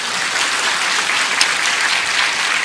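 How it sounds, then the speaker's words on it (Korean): Church congregation on Easter Sunday clapping in praise, a loud, dense, continuous wall of applause with no voices over it. "부활하신 우리 주님께 박수로 영광을 올려드리겠습니다"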